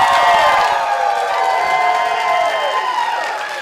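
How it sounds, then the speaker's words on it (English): A studio audience cheers and whoops loudly for Emilio Estevez, a dense burst of crowd cheering and applause that fades slightly toward the end. "Give a big round of applause for Emilio Estevez."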